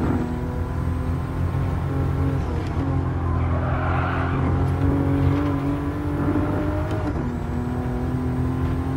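Race car driving on a track in the video game Gran Turismo Sport, fitted with racing super soft tires: a steady, loud engine drone runs throughout, with tire squeal and skidding in the middle.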